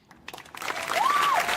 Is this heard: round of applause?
yes